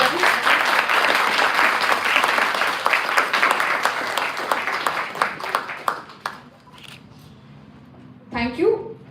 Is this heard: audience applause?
yes